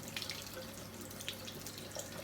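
A cooking pot washed under a running kitchen tap, with a steady close hiss of flowing water and small splashes and drips throughout.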